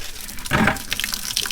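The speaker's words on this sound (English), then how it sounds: "So the water's coming up that pipe because I always keep the pipe empty." Water gushes out of a pipe at an off-grid tiny house, a sudden loud burst of flow that settles into a steady running splash.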